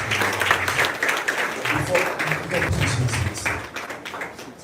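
An audience at a student malaria-awareness event applauds a volunteer speaker with a dense, sustained burst of clapping that fades slightly toward the end, with a few voices mixed in.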